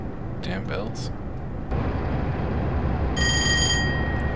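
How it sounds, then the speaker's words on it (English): A telephone bell rings in the Train Simulator 2013 video game, a steady electronic ring entering partway through over a constant loud rumble of train noise, with someone talking in the background. "Someone answer that damn phone."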